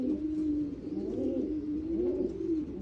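A racing pigeon cock bird coos alone in a soft, continuous, rolling murmur, fairly close, with no voices.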